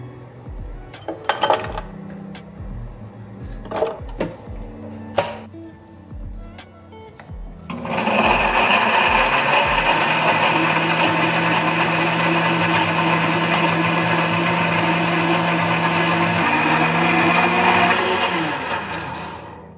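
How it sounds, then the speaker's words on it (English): Blender whirring steadily while making a fruit smoothie, a loud sustained high motor roar lasting about twelve seconds after several clinks and knocks of the jar being set up, close and without talk. "now I have the blender on it, so I'll let you enjoy this little ASMR"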